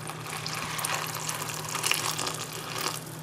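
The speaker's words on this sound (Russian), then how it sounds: "А далее просто заливаем все горячей водой и ждем 5-10 минут." Hot water pours steadily into a Korean emergency ration pouch of bulgogi-flavoured food, a close, continuous gushing fill with slight gurgles and no talk.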